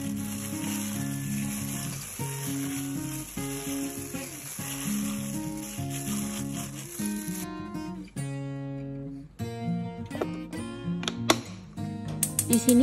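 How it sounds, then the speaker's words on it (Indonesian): Water sizzles in a hot Saladmaster pan to test its heat before cooking homemade tacos: a steady hiss and crackle runs beneath prominent background music. "Pertama-tama kita tes dulu kepanasan pancinya dengan air."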